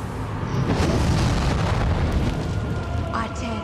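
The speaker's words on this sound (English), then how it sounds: "Call forth fire from the pit!" Hellfire summoned from a pit in a dark witchcraft ritual, a loud continuous roaring rumble of fiery eruption with rushing, crackling texture throughout, and a brief higher whoosh near the end.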